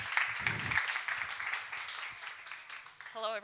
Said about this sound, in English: round of applause for Danilo, for all Ukrainian founders, for Adam